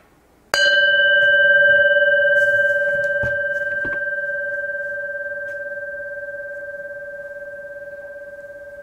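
A single bell struck once during a Buddhist Sunday dharma service in a Seon meditation hall, ringing out with a long, clear, steady tone that slowly fades over several seconds in a quiet room.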